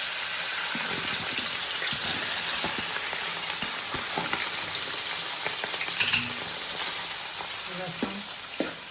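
Garlic tempering sizzling hard in hot oil for a potato dish, a loud continuous frying hiss with scattered pops and occasional stirring clicks, no clear talk.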